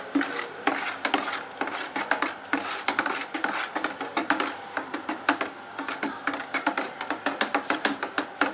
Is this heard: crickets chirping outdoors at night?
no